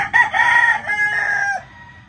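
A seven-year-old rooster crows loudly and close by, one long drawn-out call that trails off into quiet farmyard background.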